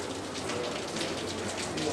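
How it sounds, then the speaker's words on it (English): Light rain falling outdoors on a day of sightseeing in Southeast Asia, a steady close hiss of drops on surfaces with no distinct thunder and no talk. "It's raining a little bit"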